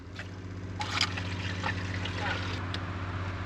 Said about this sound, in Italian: Ho sentito l'acqua che sta andando nel boiler.